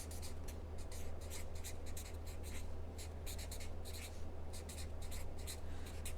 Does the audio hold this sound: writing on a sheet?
yes